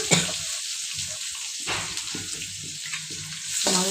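Chopped onion, green chili and curry leaves with mustard seeds and urad dal fry in oil in a pan for Tamil kara poli, a steady close sizzle broken by brief bursts of spattering and stirring, with no talking.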